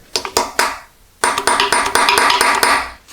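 A few sharp metallic taps of a hammer on a center punch marking metal during a Triumph TR4 engine rebuild, then a brief pause before a busier stretch of clanking metal.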